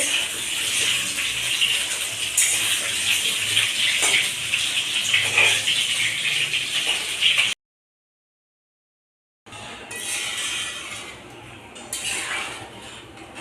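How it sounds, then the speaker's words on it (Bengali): Water pours into a pot of spiced khichuri with a loud, continuous gushing splash, broken by a short silent gap before the pouring resumes. "সমস্ত কিছু মশলা দিয়ে কষিয়ে নিয়ে জল দিয়ে দিলাম"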